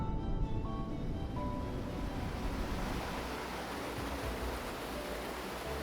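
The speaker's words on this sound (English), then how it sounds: "the falls produce a thunderous sound, especially during the rainy season when the river swells" Augrabies Falls on the Orange River roars as the water plunges into a granite gorge, a dense and constant rumbling wash that holds at an even level throughout, with faint tonal sounds drifting in at the start.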